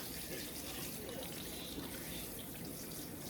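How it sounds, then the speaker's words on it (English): Tap water runs steadily from a sink faucet while raw steak meat is rinsed under it for pepper steak, a loud, continuous close splashing with slight variations as the meat is moved. "I just let the water, rinse the meat, and I just do this to make sure all the blood is off"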